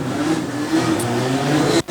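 Legend race cars rev their mid-pitched engines during a heat race on a short oval, a loud steady drone from a nearby field of cars that cuts out abruptly near the end.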